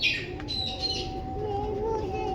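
Soft bird chirps open the clip, followed by a low steady hum and faint cooing-like tones against a quiet background.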